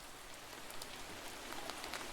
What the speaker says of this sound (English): For added realism, I've added more rain layers affected by the current listener's orientation.